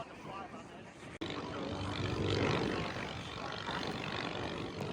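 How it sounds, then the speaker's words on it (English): Propeller drone of a Legal Eagle ultralight aircraft flying over an airstrip on a windy morning, a steady hum that grows slightly louder mid-clip amid outdoor wind and faint background chatter. "the owner of the strip is giving it a go in his Legal Eagle"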